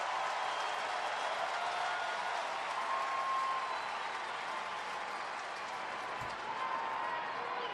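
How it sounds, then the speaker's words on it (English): Dense, steady crowd roar at a Major League Baseball game between the Los Angeles Dodgers and Miami Marlins, a broad stadium wash of cheering and clapping holding loud and even throughout with no one speaking. "And you can hear this crowd now"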